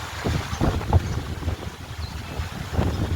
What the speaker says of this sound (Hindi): मौसम एकदम लाजवाब हो गया है और ज़बरदस्त आंधी चल रही है।